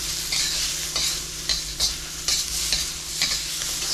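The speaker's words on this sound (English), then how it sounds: "Stirring them around." Shallots stirred and frying in a pan for pad thai, a steady hiss of sizzling oil broken by regular scraping strokes of a utensil roughly every half second, close and clear.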